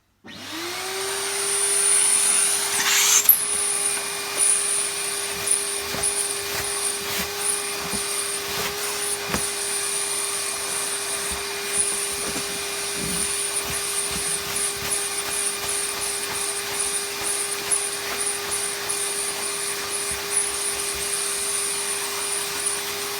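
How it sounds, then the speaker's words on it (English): A Hoover Junior Model 375 upright vacuum cleaner switches on and spins up into a steady, loud motor whine with a high-pitched tonal hum, running continuously nearby with occasional bumps and clicks as it moves. "let me get the vacuum"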